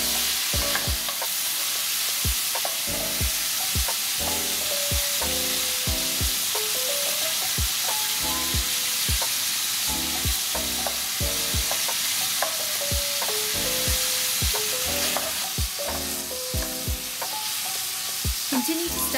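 Pork turned and stirred in a hot pan while it fries, giving a steady sizzle broken by frequent close scraping and clattering strokes of the utensil, loud and continuous throughout.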